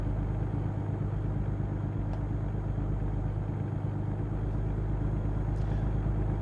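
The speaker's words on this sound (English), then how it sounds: "Listen to the engine." Truck engine in American Truck Simulator, a steady low diesel drone with a constant rumbling pulse running throughout, close and even in loudness, with faint brief ticks over the top and no talking.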